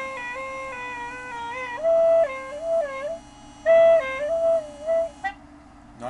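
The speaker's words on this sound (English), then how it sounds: "If you don't blow it a specific way, it sounds like this." A three-pipe gourd flute blown incorrectly gives reedy, uneven stepped tones with a steady drone underneath and short breathy bursts, fairly quiet, heard alone.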